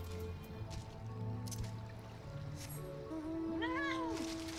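A fat cat creature in Final Fantasy XIV gives a clear, rising-and-falling meow near the end, loud over steady game music and ambience.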